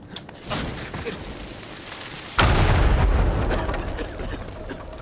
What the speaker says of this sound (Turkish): Artık o duyduğumuz patlamanın ne olduğunu biliyoruz.